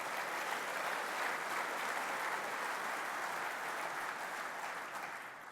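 Sustained applause from an audience, a dense wash of clapping that holds steady and then begins to taper off at the end.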